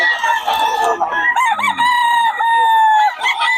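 Roosters from Batangas crow loudly and close at a poultry seller's stall, with long drawn-out calls over faint clucking from other chickens.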